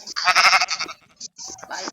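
A video-game sheep in Breadcraft SMP bleats loudly and close, one wavering bleat followed by shorter, fainter calls.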